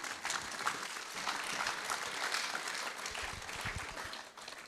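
An audience at a national science fair ceremony applauds, with dense, steady clapping from many hands at moderate distance that holds evenly for several seconds before thinning slightly at the end.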